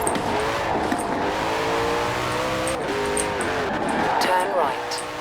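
Koenigsegg with a V8 engine driving in the racing game Forza Horizon 4, its steady engine drone shifting pitch as it revs and changes gear, continuous and fairly loud beneath someone talking.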